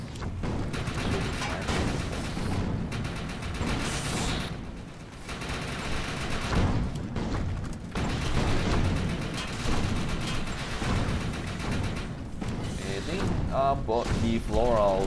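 Gunfire from sniper rifles in the sci-fi shooter Defiance 2050, a steady barrage of shots and booms running throughout, mixed with a speaking voice and dense game noise.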